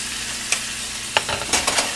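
Cooked pasta tossed and stirred through firm chicken livers in a hot, sizzling pan, with a steady frying hiss under a few sharp scraping clanks of a utensil against the pan.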